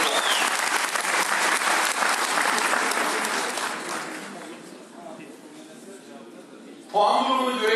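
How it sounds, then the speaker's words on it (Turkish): Applause from the audience at a 2018 Ottoman Turkish language competition final fills the room, strong and sustained before slowly thinning out. A burst of talk cuts in near the end. "Bütün arkadaşlarımızı tekrar alkışlayalım"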